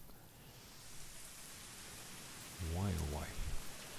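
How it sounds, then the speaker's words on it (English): Steady rain hisses softly throughout a New York street race in the racing video game The Crew, with a voice breaking in briefly near the end. "It's raining."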